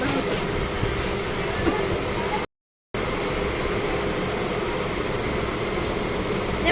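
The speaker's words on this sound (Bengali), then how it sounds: "অবশেষে ট্রেনটা ছাড়লো" A passenger train on a Sundarban-area line beginning to pull away, heard as a steady low rumble and broadband rolling noise from inside the carriage, broken by a brief dropout midway, then continuing evenly.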